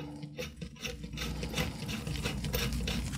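A threaded barrel liner for an FX STX air rifle is turned by hand, producing a steady soft scraping and rasping of metal threads, close and continuous with no talk.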